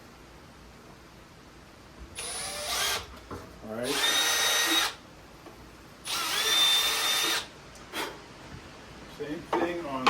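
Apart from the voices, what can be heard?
power drill drilling pilot hole in wood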